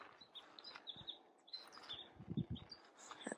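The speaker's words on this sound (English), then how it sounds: "You can hear the birds singing." Birds sing outdoors in a quiet rural community at Castle Rock near Invermere, BC, with faint scattered chirps and short tweets over a hushed background and a few soft low thumps.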